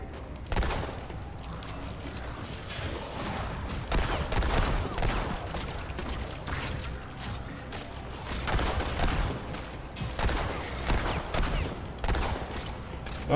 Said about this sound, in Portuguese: Esse meu revólver de 6 tiros está ficando um pouco difícil de lidar